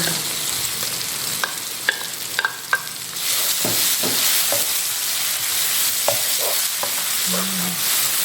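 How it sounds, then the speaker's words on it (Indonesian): Chilies and onions frying in a pan for Manado-style skipjack tuna, a steady loud sizzle with intermittent clinks and scrapes of stirring, no talk. "Ini bawangnya sudah berubah warna ya. Sekarang kita masukkan cabenya."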